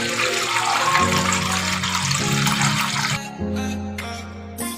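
Water pours steadily over rice being soaked for chicken biryani, a continuous close splashing flow that shifts in tone partway through with a steady hum underneath.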